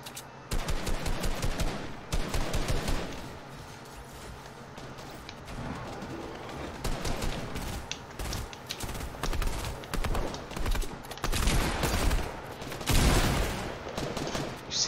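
Dense, continuous bursts of rapid gunfire crackle without pause, loud and chaotic like a heavy firefight in a game.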